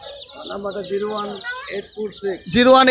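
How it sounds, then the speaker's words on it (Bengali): Young deshi chicken chicks at a bird market in Tongi bazar, a flurry of high, close peeping calls that clusters into bursts, louder toward the end, with voices mixed in. "ভাই অনেক পাখির বাচ্চা নিয়ে আসছে ও সরি মুরগির বাচ্চা নিয়ে আসছে"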